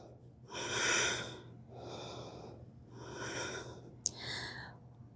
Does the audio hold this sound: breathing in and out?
yes